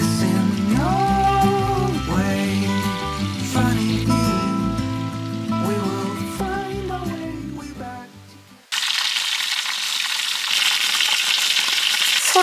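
Chicken frying in a mess tin over a wood campfire by a pond, first under a layer of plucked melodic music, then a steady loud sizzle on its own once the music cuts out.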